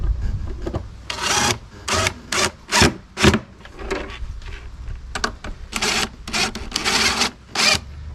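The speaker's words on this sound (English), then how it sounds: "Just putting all these screws in these awkward positions." Screws are driven by hand into a homemade 12V 200Ah LiFePO4 power station, a run of short, close grinding bursts with brief pauses between turns and no talking.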